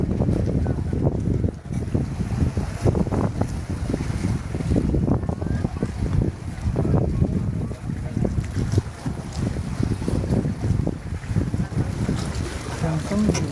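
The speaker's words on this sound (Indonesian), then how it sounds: "Kapal baru sampai" The passenger ship Siginjai docks at Jepara port after sailing from Karimunjawa, with steady wind buffeting, water wash and a low vessel rumble throughout and faint voices in the mix.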